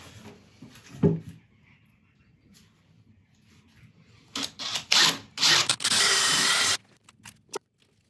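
Woodturning tool being sharpened on a grinder in a workshop, with scattered knocks and handling noises followed by several short grinding bursts and one sustained grind of about a second and a half.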